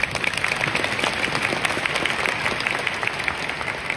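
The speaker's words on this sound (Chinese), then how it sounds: "此刻必须要掌声。" An audience at a large leadership training seminar in Kuala Lumpur claps, a dense, sustained patter of many hands with a slightly reverberant hall sound.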